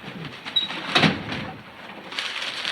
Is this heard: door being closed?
yes